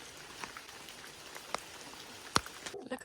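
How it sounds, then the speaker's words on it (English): Rain patters steadily on dense foliage in a cloud forest near Tandayapa, Ecuador, a soft continuous hiss broken by a few louder close drips. "Listen to how beautiful the rain sounds on all of the leaves."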